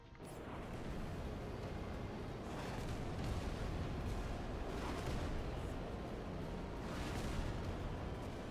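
Explosion in the video game Stellar Blade, a dense, sustained roar of rumbling blast noise with brief swells, fairly loud and alone without talk.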